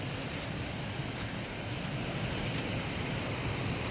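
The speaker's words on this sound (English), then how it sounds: "I got a feeling there's a waterfall right there." Steady broadband rush of a waterfall in a gorge along the Loyalsock Trail, heard close and continuous with no pauses, wind mixed into the roar.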